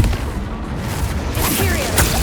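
Bombarda and Confringo spell blasts in the Hogwarts Legacy video game, a dense run of booming, crackling bursts over continuous game noise, with a voice casting spells through it.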